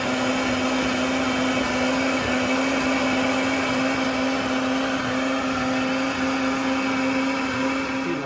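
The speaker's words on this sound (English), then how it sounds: "Blender" A blender blending salsa runs steadily at high speed, a loud, even whir that holds throughout without pauses or voices.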